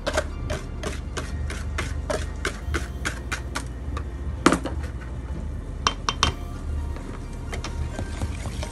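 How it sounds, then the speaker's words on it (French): A whisk or spoon clinks rapidly against a bowl while an egg, flour and sugar mixture is beaten into melted chocolate for a chocolate fondant, a busy close tapping with a few sharper knocks. "j'incorpore le mélange œuf, farine et sucre au mélange au chocolat fondu"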